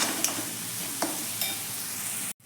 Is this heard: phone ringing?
no